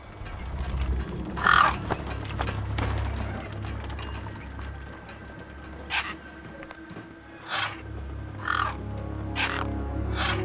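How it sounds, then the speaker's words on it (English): Crows cawing in the wasteland of the game Beyond a Steel Sky, several separate harsh calls at mid distance over a low rumbling ambient drone, without talk. "Then, I heard them. Gang birds, scavengers"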